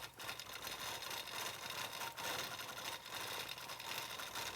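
A sewing machine stitches stipple quilting in a steady, rapid mechanical whir with faint rhythmic pulses of the needle, running continuously and fairly quietly without talk.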